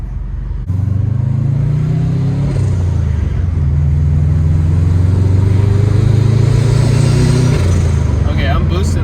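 A Mazda RX-7 FD with a Mark 4 Supra front end accelerates hard, its engine droning loud and close as the pitch climbs through gears in long pulls, while turbo whine and hiss build toward the end.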